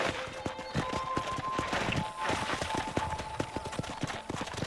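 In the Red Dead Redemption video game, a horse's hooves beat a quick, steady clip-clop while it is ridden, fairly faint, with a light tonal hum from the game behind.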